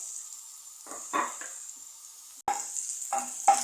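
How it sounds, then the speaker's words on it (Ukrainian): Onion and pork fat fry with a steady high sizzle throughout, with a few louder bursts of stirring or scraping in the pan, including a sharp clatter midway. "Цибуля і сало в нас піджарилися"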